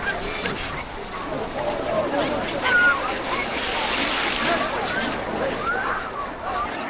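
Sea waves wash onto the beach at Bakkhali with a continuous surging roar, under the chatter of a crowd of beachgoers and nearby voices.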